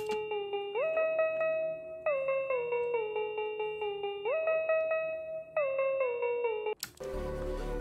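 A bright synthesized tone steps up and down between a few pitches in a repeating pattern, then ends with a sudden noisy burst.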